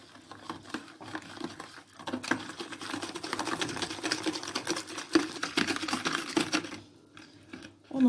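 Custard ingredients are whisked together in a bowl, a fast rattling patter of the whisk that builds, runs steadily for several seconds and then slows to a stop.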